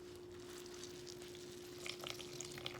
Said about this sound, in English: this is why the potatoes pop when you put them in grease and you cook